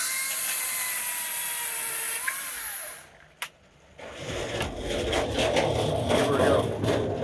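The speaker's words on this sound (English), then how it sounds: "We also have an 18 volt chainsaw as well." A Makita 18-volt battery electric chainsaw whines at high speed, cuts off abruptly, then runs again with a rougher buzzing tone amid background speech.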